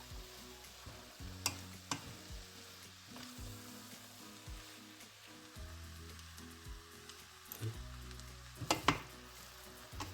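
Cooked rice mashed and stirred in a frying pan, a steady low sizzle broken by irregular scraping and tapping of the utensil against the pan, quiet and close with no voices.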